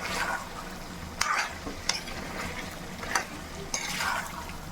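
Tomato pieces softening in a pan for chicken curry with chana dal, a low steady sizzle broken by several sharp scraping stirs of a spoon against the pan, close and without talk.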